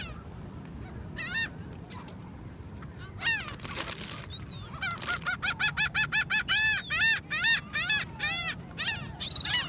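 Seagulls at a beach feeding spot in Wildwood, New Jersey call repeatedly in loud, rhythmic series of squawking cries, close by, over a steady outdoor background.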